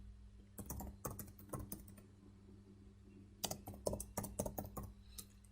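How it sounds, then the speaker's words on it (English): Typing on a computer keyboard in two short bursts of quick, quiet key clicks separated by a pause, close up with no talk. "let me type here"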